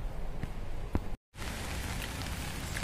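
Light morning rain patters steadily on surfaces outdoors, a soft even hiss with a few sharper drops, broken by a brief moment of silence.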